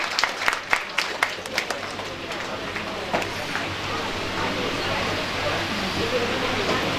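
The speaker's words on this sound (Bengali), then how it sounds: "একটু ছেলে মেয়েদের উৎসাহিত করার জন্য জোরে হাততালি দিতে অনুরোধ করছি সবাইকে" An audience claps for prize-winning students at a college topper prize distribution, sharp individual claps at first that merge into a dense, sustained round of applause from a crowd.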